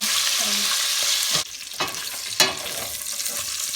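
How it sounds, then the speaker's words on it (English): Sausage fries in a pot with a bright, constant sizzle, broken up by a few sharp clinks and scrapes of stirring, close and fairly loud with no talk. "So we're putting the sausage. That's what we're gonna fry first."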